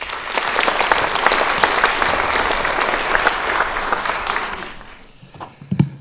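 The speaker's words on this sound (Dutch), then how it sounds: "Applaus." Audience applause at a writers' festival in The Hague, a full dense burst of clapping from a crowd that holds steady and then dies away, followed by a few stray sounds.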